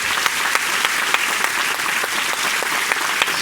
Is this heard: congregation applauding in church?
yes